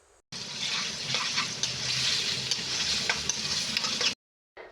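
Loud, steady sizzling and crackling from meat sautéing with tomatoes in a hot pan, with occasional stirring scrapes, ending abruptly before a brief quiet gap.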